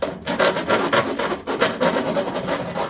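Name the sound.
filing sharp edges of drilled metal downspout with metal file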